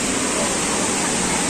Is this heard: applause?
no